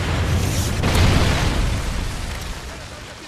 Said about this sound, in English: Friendly Trinity rocket sounded inbound.